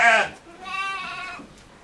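A meat-type goat on a goat farm lets out a loud, close bleat that wavers for about a second, with a brief voice heard just before it.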